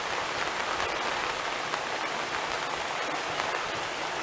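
Steady rain pattering on a surface beside a canal lock, a dense continuous hiss with no pauses and no voices.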